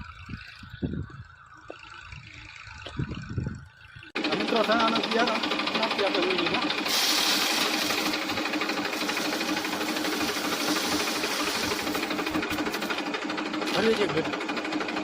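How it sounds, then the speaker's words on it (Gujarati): A steady tractor engine drones and rattles continuously in a field during chickpea sowing, after a brief stretch of talk, running close by without pause for the rest of the clip. "એક બાજુ ઓલું ટ્રેક્ટર હાલે મિત્રો"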